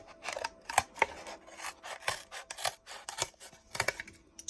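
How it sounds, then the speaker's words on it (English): Scissors cut through cardboard for a pizza slice sculpture craft, making a quiet, steady series of crisp snips and rasping scrapes close by with no talking. "I know it's challenging and a little tiring cutting through cardboard"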